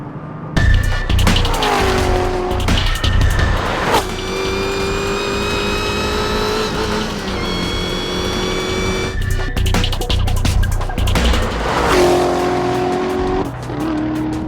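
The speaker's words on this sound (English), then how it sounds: "We've got the exhaust in the track mode, and let me tell you, it is loud." A Chevrolet Corvette Z06 or Nissan GT-R Nismo sports car roars loudly on a racetrack with its exhaust in track mode, its engine climbing through rising revs and gear changes, with brief tire squeals between pulls.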